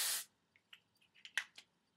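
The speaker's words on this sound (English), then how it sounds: "I'm gonna spray" A short burst of hairspray hisses up close, followed by a few faint clicks and soft taps.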